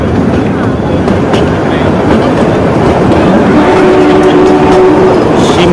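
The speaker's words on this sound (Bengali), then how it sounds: "আমাদের ট্রেন চলা শুরু করে দিয়েছে।" A train on the Shimla to Kalka line pulling away, heard from inside a coach: a loud, continuous rumble with faint rhythmic clatter and a brief tonal squeal building midway.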